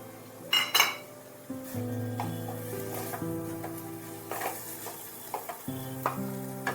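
Sliced, deseeded tomatoes drop into sizzling masala in a pan for a potato-aubergine fry, then get stirred with a spoon, producing a burst of frying hiss and several metallic clinks against the pan, close and fairly loud.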